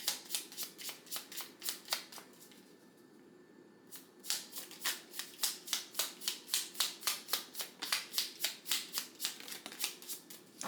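Forest Friends oracle cards being shuffled by hand, a steady run of crisp riffling flicks close up, pausing briefly then resuming in a quick even rhythm, quiet with no talking.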